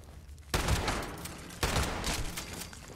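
Gunfire in the video game Fallout 76, fought inside the Wendigo cave: two sharp, loud blasts about a second apart, each trailing into a dense, rumbling wash of noise that carries on to the end.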